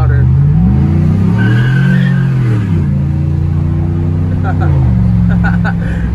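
A truck engine with a new Carven muffler, still running two catalytic converters, revs loudly and close by, rising and falling in pitch through two long revs with a throaty exhaust note.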